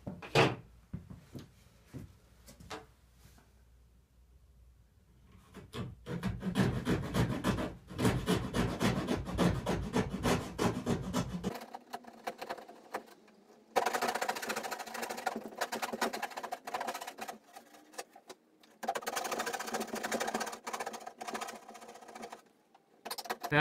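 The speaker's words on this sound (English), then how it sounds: "we're going to remove all of this material in here with our coping saw" A coping saw cutting through wooden crown molding, with steady rasping strokes close by that run in long rhythmic stretches and briefly pause between bursts of sawing.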